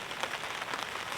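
Heavy rain patters densely on a tent and campsite surface, a steady close hiss of drops with no voices.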